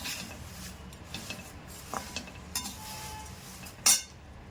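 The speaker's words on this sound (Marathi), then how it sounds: "अशा पद्धतीने मी सर्व पोहे भाजून घेत आहे" Thin poha being dry-roasted in a small kadai, with soft dry rustling and scraping of a spoon against the metal, a few light clicks and one sharper clink near the end, close and quiet with no talk.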